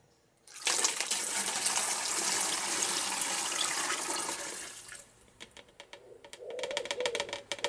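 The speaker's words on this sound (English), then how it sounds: "Let me tip this back in the bowl." Liquid, fuel and water, pours steadily back into a bowl for several seconds in a rushing splash, then trickles and drips as the pour finishes.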